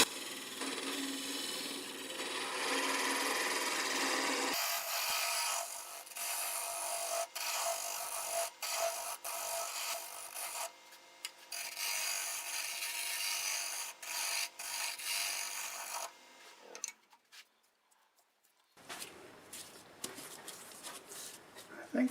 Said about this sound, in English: I'll clean it up with this smaller negative rake scraper.